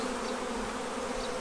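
A steady, droning buzz of many honeybees at an open hive, close and continuous, with a low hum holding even throughout.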